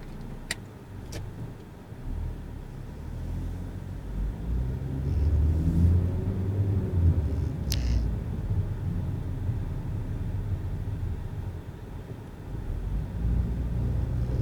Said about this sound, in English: I'm going to drive along the road in front and until we meet the Shell petrol stations